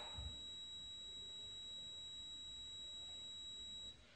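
A continuous high electronic beep tone from probing a pin on a homemade RF modulator sounds steadily for about four seconds, quiet but clear, then cuts off.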